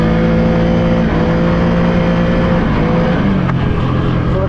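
Can-Am Outlander 700 X-mr single-cylinder ATV engine pulling hard and loud up close, a steady harmonic drone that rises slightly in pitch as it accelerates, running continuously without talk.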